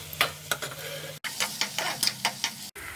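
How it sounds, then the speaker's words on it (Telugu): Bottle gourd pieces and peel frying in a pan for chutney, with a steady sizzle broken by repeated scraping stirs of a spatula, close and rhythmic, with no talking. "ఆనపకాయ ముక్కలు, ఆనపకాయ తొక్కు వేయిస్తున్నాను పచ్చడి కోసం"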